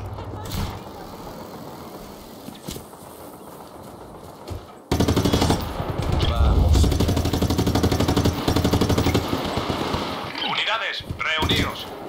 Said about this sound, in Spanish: Disparos.